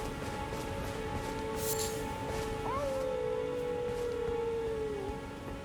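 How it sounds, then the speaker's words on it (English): Drawn-out howling from the video game Elden Ring, a single rising then sliding wavering tone held for a few seconds over a steady droning game ambience, moderately loud and alone without talk. "I hear the howling"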